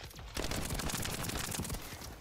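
Rapid, dense crackling gunfire from snipers in a shooter video game, a loud continuous burst of overlapping shots lasting a couple of seconds before tailing off.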